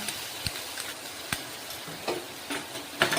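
Ginger and onion paste frying in a pan for a fish-head and potato curry, a low steady sizzle broken by a few sharp scrapes and clinks of a stirring spoon against the pan.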